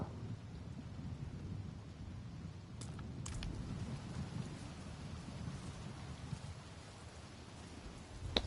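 Steady rain falls in a video game, a dense continuous hiss and patter at an even level throughout, with no voices.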